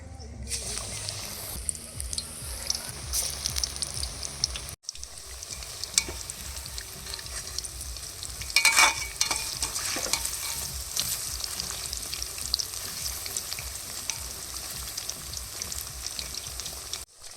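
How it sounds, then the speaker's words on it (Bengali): Cauliflower florets coated in gram flour batter fry in hot oil with a steady, loud crackling sizzle and bursts of splatter. The sizzle runs almost continuously, with a short break near the start and a sharper flare-up midway. "এবার ফুলকপিগুলো বেসনে ডুবিয়ে গরম গরম তেলে ছাড়তে হবে"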